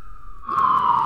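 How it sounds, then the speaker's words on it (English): Fire department sirens wail in downtown Austin near a fire station, a steady high tone that swells suddenly louder halfway through and holds close and piercing, with no talk over it. "I can't hear you for the sirens."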